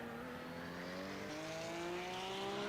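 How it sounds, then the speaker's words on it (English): Race cars roar around the Brands Hatch circuit in a racing video game, a steady, loud engine drone whose pitch climbs and shifts as the cars accelerate and run over the curbs, with no one talking. "See what it sounds like when the cars hit the curbs"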